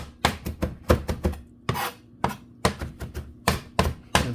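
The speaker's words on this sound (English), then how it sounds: "So I just like to do like a rough chop." A knife rough-chops cilantro on a cutting board, a quick run of close, crisp thuds in an uneven rhythm with brief pauses between bursts.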